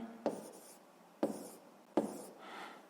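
Pen strokes on paper while working a sixth-grade math problem: three short, distinct bursts of writing, each with a sharp tap and then a brief scratchy trail, close and fairly quiet, with no talking.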